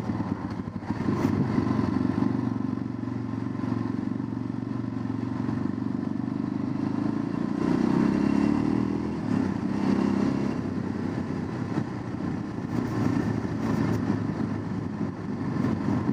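An old Cagiva Canyon motorcycle rides over the Salviano mountain pass, its engine droning steadily with some wind and road rumble, the tone rising slightly midway as the throttle opens.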